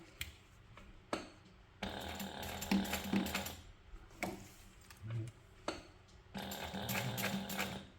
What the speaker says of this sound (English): And you can just sew two lines, one near the hardware and then one near the cut end, or sew a box.